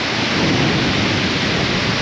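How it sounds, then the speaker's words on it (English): Water spills out of a channel into a river in Ecuador, a steady, loud, dense roar of rushing water close by that holds constant throughout with no voices. "Water spilling out of that channel, right down here."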